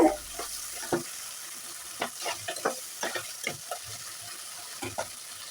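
Potatoes being fried and stirred in a pan for a spinach and fish dish, a soft sizzle broken by scattered scraping and clacking spatula strokes, close and fairly quiet, with no voices.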